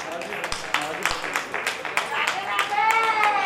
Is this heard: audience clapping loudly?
yes